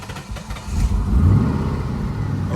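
An MG X Power SVR with a 5.0 Mustang V8 fires up from cold, giving a loud, deep engine rumble that briefly rises in pitch, close by.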